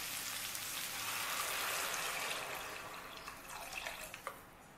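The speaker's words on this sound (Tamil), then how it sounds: "இப்போ நூடுல்ஸ்க்கு தேவையான அளவு தண்ணி சேர்த்துடலாம்." Water is poured into a pan to cook spicy Yeppi noodles, making a steady splashing rush that grows slightly and then tapers off into a few scattered drips and taps.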